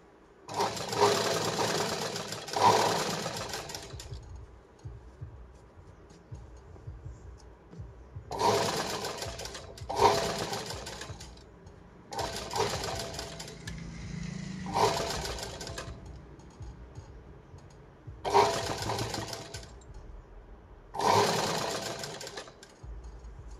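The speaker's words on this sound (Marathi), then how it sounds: "तर अशी आपण याला शिलाई मारली." A sewing machine stitches a blouse in six short runs of steady motor whir, each a second or two long, separated by brief pauses as the fabric is repositioned, fairly close and with no talking.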